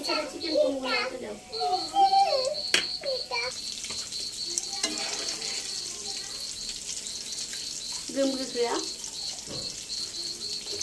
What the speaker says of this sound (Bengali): বাকিগুলো এখন ভেজে নিচ্ছি